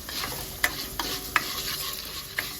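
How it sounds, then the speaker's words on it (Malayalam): Coriander seeds roast in a little oil in a pan, giving a soft steady sizzle broken by a few sharp scrapes and taps of a stirring spoon against the metal. "കുറച്ചെണ്ണ ഞാൻ ഈ പാനിൽ വെച്ചിട്ടുണ്ട്. മല്ലി വറുത്തെടുക്കാം."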